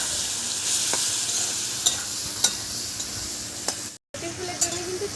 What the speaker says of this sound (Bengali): এবার লবণ হলুদ মাখানো চিংড়ি মাছটাও ভেজে নেব।